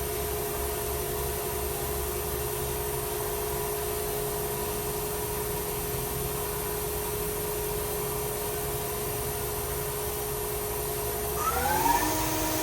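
A 2017 DMC DL-8T CNC turning center lathe with a FANUC control runs its spindle at a steady 2,000 RPM. It makes a constant mechanical whine and hum, and near the end the pitch climbs briefly as the spindle speeds up.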